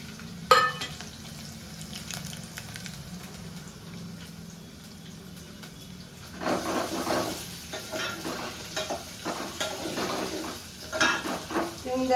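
Potatoes, peanuts, curry leaves and green chilies sizzle in a pan for sabudana khichdi, a steady close frying hiss broken by a sharp clink and, later, louder scraping stirs.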